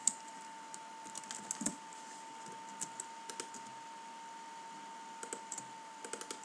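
Computer keyboard typing out text for a Minecraft sign, with quiet, irregular clicks and short bursts of keystrokes over a faint steady hum, no voices.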